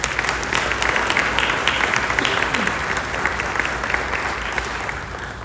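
Sustained audience applause at a public presentation for a new elementary school in Columbus, Indiana, steady dense clapping from a large crowd across the whole stretch, tapering slightly at the end.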